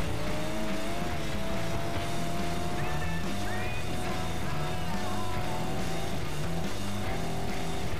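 Race car engine droning steadily at speed in the racing video game FlatOut 2, a continuous loud hum with shifting pitch under light background noise.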